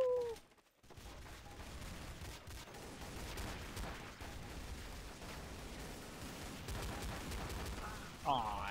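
Desert Eagle pistol shots in Counter-Strike: Source, a run of gunfire and battle noise mixed with game sounds, fairly steady and moderately loud, with a voice talking over parts of it.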